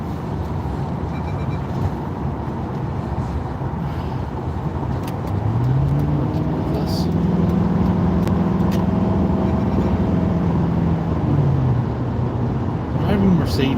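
A Mercedes car driving on the road at under the speed limit, heard from inside as a steady engine and road rumble with a rising and falling engine tone, people talking over it.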